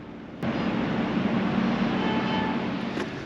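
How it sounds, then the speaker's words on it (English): A Swiss train passing near Nyon arrives with a sudden loud onset, then a steady low rumble and roar of rolling wagons that holds close and strong until it cuts off near the end. "let's catch this train further down the line"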